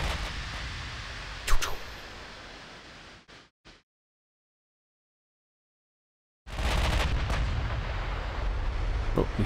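Heavy naval gunfire in the Ultimate Admiral Dreadnoughts warship game: a sharp loud blast rising over a steady roaring sea-and-engine rumble, a couple of brief thuds, then a few seconds of silence before the loud rumbling ambience returns.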